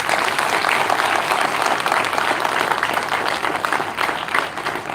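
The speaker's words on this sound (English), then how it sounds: "Please give him a big round of applause." Round of applause from the audience at a World Hand Hygiene Day event as a guest is felicitated, dense, loud clapping sustained throughout and tapering slightly at the close.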